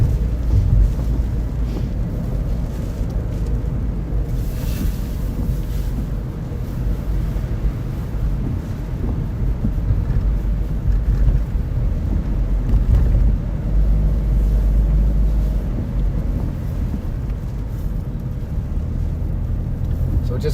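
Strong typhoon wind buffets the microphone on the Okinawa coast in Japan, a steady loud roar with low rumbling gusts that swell and ease throughout, with no clear talk.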